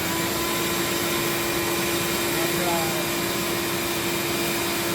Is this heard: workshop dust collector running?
yes